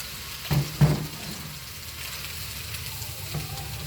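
Steady sizzle of sliced boiled egg tossed into a pan of frying onion and tomato, with two brief louder stirring scrapes near the start and a continuous hiss afterward.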